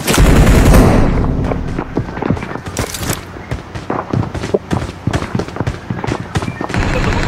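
Rapid bursts of gunfire ring out in a PUBG Mobile match on the Sanhok map, a heavy opening volley followed by many sharp shots fired in quick irregular strings, loud and close.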